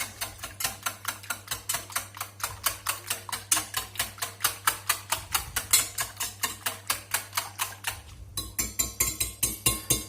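Whisk rapidly beating milk into batter in a bowl for a flamiche, a fast steady run of metallic clicks against the bowl, close and loud, pausing briefly near the end before resuming.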